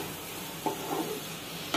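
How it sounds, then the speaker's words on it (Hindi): Masala with tomatoes fries in a pan for a stuffed paneer capsicum dish, giving a soft continuous sizzle. Two brief scrapes of stirring cut through it, with no talking. "अब इसको फ्राई होने देती हूँ"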